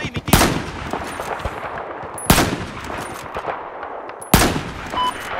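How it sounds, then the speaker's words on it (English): Enemy machine gun fire in Battlefield 4 on Xbox One: three sharp, loud bursts of gunfire spaced about two seconds apart, each trailing into a rattling echo amid background game noise. "Looks like an enemy machine gunner"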